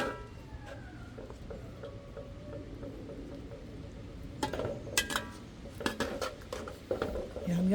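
A ladle scoops ginataang gulay, a vegetable stew in coconut milk, from a metal pot. Quiet stirring gives way to a cluster of sharp clinks and scrapes of metal against the pot.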